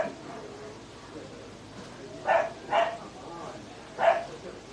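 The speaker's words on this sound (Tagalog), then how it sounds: "Kasali na po ang mga aso sa meeting." Several dogs bark in short bursts, three distinct barks spaced over a few seconds, moderately close against a steady low background hum.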